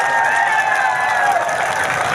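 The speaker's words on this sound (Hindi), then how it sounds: "जोरदार तालियां अजय भाई" A large crowd at a Yadav community political rally claps loudly and continuously. The sound forms a dense, even roar of applause with a voice faintly audible underneath.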